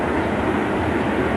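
Steady, dense rumble of a train braking on the rails, a continuous broadband roar with no distinct clicks or squeals standing out.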